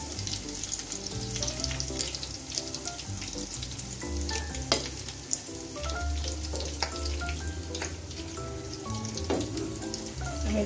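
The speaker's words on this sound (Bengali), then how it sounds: "আমি একবারে ভাজবো না, অল্প অল্প করে ভেজে নিচ্ছি।" Potato rolls frying in hot oil in small batches, a steady dense crackling sizzle with occasional sharper pops and light clinks of a utensil, continuous and close throughout.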